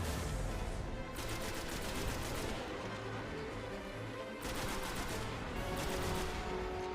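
Heavy gunfire in Destiny, sustained automatic bursts with dense crackling shots and booms, two long volleys separated by a brief lull, loud and close, with almost no talk over it.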